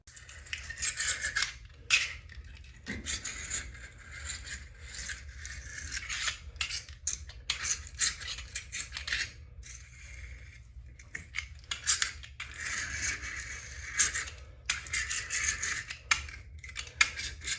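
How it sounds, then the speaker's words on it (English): Utility knife scraping and cutting old wax off a bathroom floor where a toilet sat, steady close rasping and scratching strokes with brief pauses, no talking. "I'm gonna use my knife and gently just cut all that off"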